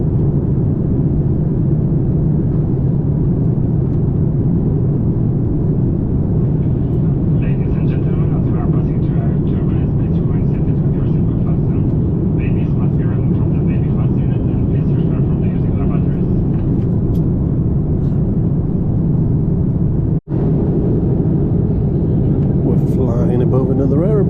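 A steady low roar of jet engines fills the cabin of an Emirates airliner in flight from Newcastle to Bangkok, constant and loud, with a faint higher hum over it and a brief click near the end.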